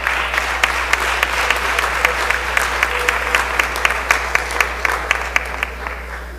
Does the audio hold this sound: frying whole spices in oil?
no